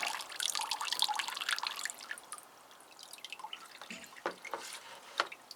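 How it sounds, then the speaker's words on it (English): Water drips and trickles steadily onto Phalaenopsis orchid leaves and pot during watering, a close, fairly busy patter early on that thins to sparser, distinct drops. "Give them a good watering, and it's a nice day, so we'll just give the leaves a bit of a wetting"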